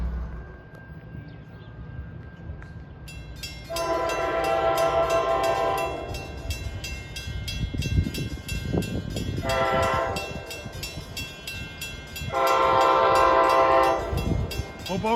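A Hoboken–Port Jervis train in northern New Jersey, led by a Jeep locomotive fitted with a K5LA horn, passes close by, sounding a long blast, a short one and another long one over a rumbling, clattering roll.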